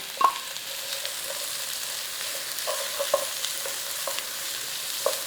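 Red pepper (capsicum) frying in olive oil as it's stirred in, a soft continuous sizzle with scattered light scrapes and taps of a spoon, fairly quiet and without talk.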